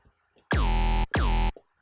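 A clean sine-wave bass synth layer from Serum plays two loud, smooth sustained notes with a quick pitch drop at each onset and a short gap between them, isolated and dry.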